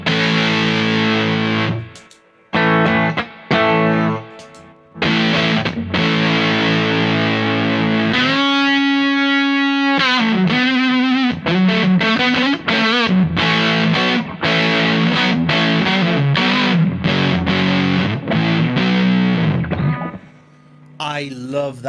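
An electric guitar played through a Big Muff fuzz pedal with its tone control taken out of the circuit gives a biting, saturated distortion: choppy chords and sustained notes, stopping and restarting, loud and close.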